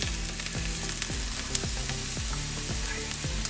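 Ginger and garlic sizzle and crackle in a hot pan for butter chicken, a steady frying hiss broken by regular scraping strokes as the mixture is stirred, fairly quiet and close.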